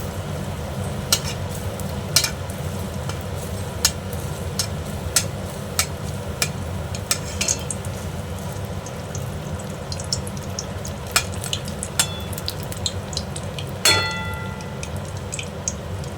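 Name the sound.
malpua frying in a pan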